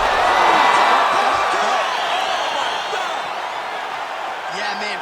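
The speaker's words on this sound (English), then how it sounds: "crowd loving it" Arena crowd cheering in the video game EA Sports UFC 5 after a knockout, a loud roar with whoops that gradually fades.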